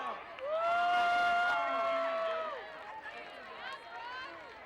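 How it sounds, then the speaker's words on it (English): A football game crowd at Culver City vs Lawndale cheers and whoops loudly, with shouting voices swelling early and then tapering off while an announcer speaks over the noise. "Let's give a round of applause for Lawndale's very own Culver."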